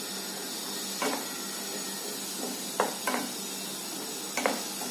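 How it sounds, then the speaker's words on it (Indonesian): A pot of rice soup with lemongrass and lime leaves boils steadily with a soft hissing bubble, broken by a few brief clinks and stirring knocks against the pot. "ini kan udah mendidih ya guys"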